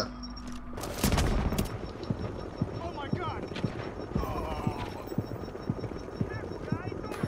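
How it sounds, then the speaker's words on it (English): Scattered gunshots crack in the shooter The Division's dark zone, a loud burst near the start followed by lighter, irregular pops under steady background noise while people talk. "It looked like you shot two bullets when I told you not to do anything"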